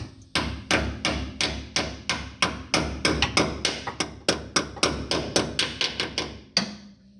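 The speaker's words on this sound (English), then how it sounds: "then you take a hammer and you just tap it in place" A hammer taps a part of a disc brake conversion kit into place on a 1969 Ford Mustang, delivering about twenty sharp, evenly spaced metallic blows in a fast steady rhythm, close and loud.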